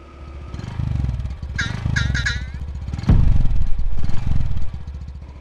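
Honda ST125 Dax motorcycle engine revving up through gears, a close buzzing exhaust rising and falling in several pulls, with a sharp clunk midway before a louder stretch, no speech.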